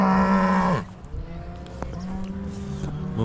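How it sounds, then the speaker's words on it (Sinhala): Cows at a cattle show in Gais, Switzerland: one loud, close moo opens, then a quieter, longer lowing follows over low background noise. "මේ ඔක්කොම එළදෙන."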